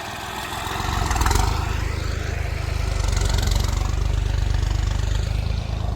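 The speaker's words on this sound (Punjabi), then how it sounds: "ਚੱਲਦੇ ਆ ਕਰਾਂ ਟਰੈਕਟਰ ਸਟਾਰਟ" A New Holland farm tractor's diesel engine starts up and idles, a steady, loud, low rumbling chug that holds evenly throughout.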